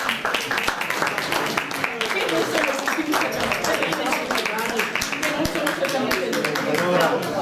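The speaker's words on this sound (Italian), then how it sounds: "al quale facciamo un grandissimo applauso per i 50 anni" A large audience gives sustained applause honouring a president emeritus's 50 years of service, a dense, steady roar of clapping that holds loud throughout.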